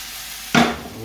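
Garlic and ginger puree hits a hot pan for a chicken curry, bursting into a sudden loud sizzle that tapers off within half a second.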